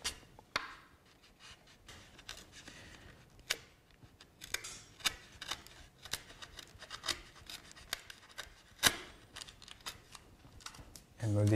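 A chisel cuts into wood while making a raised panel box, producing irregular scraping and rasping strokes with sharp, close clicks of chips breaking away.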